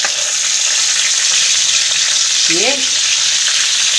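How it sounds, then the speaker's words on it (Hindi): Green chillies fry over a high flame in plenty of oil for a yogurt chilli dish, producing a loud, steady, close-up sizzle that runs unbroken throughout; a single brief spoken word sits over it partway through. "अब मैं इसको ये मिर्ची डाल दूँगी इसके अंदर और तेज़ आंच पे हम इसको फ्राई करेंगे"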